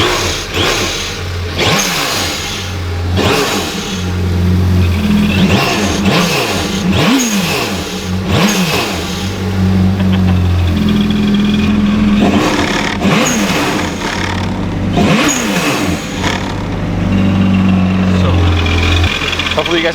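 A 2019 Yamaha FX SVHO personal watercraft with a Riva Racing blow-off valve, air intake and reflash to 8,500 RPM revs hard again and again, rising and falling loudly up close, with bursts of speech between the revs.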